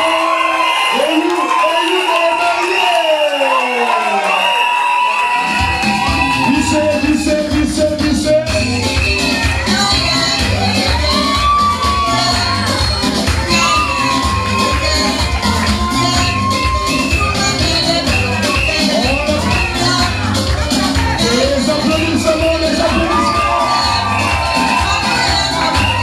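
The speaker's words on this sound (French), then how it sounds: "Les applaudissements." Guests at a civil wedding ceremony in Gabon cheer, whoop and shout loudly as a lively crowd, with voices and claps blending into a continuous roar that swells after a brief quieter opening and stays loud throughout.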